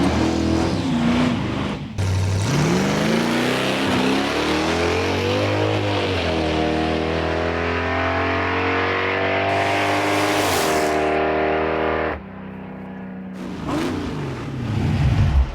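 A Chevy S-10 pickup truck roars down an eighth-mile drag strip, its engine wailing loud and close as it climbs through the gears with rising pitch, then backs off before revving again near the end.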